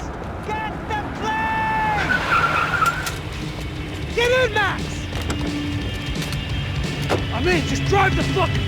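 Tire skids from a car in the video game Max Payne 3, squealing in several curved bursts over engine and action noise, with voices talking in between.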